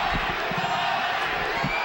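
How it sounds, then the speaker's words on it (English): A boxing arena crowd at the Erik Morales vs Paulie Ayala fight keeps up a continuous, broad roar of cheering, with scattered louder whoops rising out of the steady wash of noise. "Crowd liking this action"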